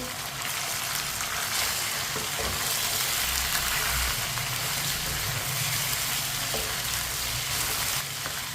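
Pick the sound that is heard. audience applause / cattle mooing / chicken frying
chicken frying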